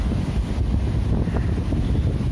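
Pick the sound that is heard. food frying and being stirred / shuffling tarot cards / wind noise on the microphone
wind noise on the microphone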